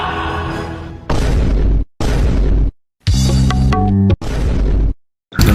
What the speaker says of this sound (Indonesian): Karena terlalu stres belajar, kepala cewek ini jadi meledak guys.